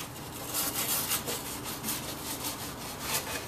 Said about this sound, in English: just trying to get as much of this real heavy char off of here as we can